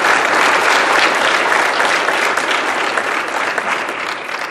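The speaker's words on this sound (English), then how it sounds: "If you will, join me in a round of applause for these folks sponsoring." An audience at a chamber of commerce candidates event claps in a dense, sustained round of applause, loud and close throughout, slowly tapering toward the end.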